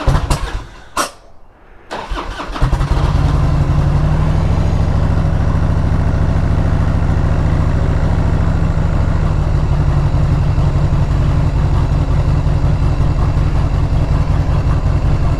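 A Harley motorcycle engine, its carburetor being tuned, cranks over briefly, then catches and settles into a loud, steady, rumbling idle that carries on unbroken, close up and with no voices.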